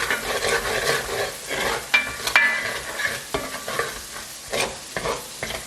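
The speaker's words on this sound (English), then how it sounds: "garlic will burn really quickly, so just stir it around" Garlic being stirred in a hot pan gives a crackling, spitting sizzle with bursts of scraping and clattering from the utensil. The noise is close and uneven, and there is no talk.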